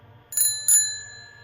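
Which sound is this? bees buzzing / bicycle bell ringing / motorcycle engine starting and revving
bicycle bell ringing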